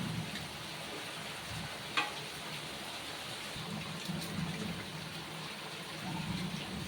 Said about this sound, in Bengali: এবার সব মাথাগুলো দিয়ে ঝোল দিয়ে খুব ভালোভাবে ফুটিয়ে নেব।